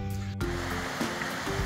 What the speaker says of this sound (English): We just arrived at the river.